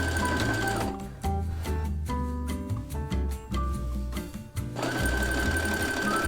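A sewing machine stitches a handmade texture piece onto fabric, running in steady loud bursts with a rapid mechanical whirr, pausing briefly in the middle and then revving up again.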